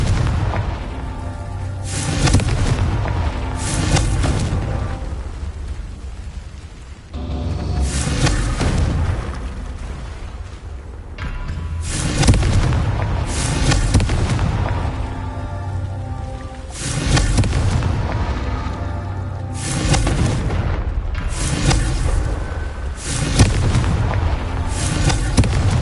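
Repeated explosive spell blasts from the Confringo curse in the Hogwarts Legacy game, heavy booming bursts recurring every few seconds over a continuous rumbling game soundscape, with no talking.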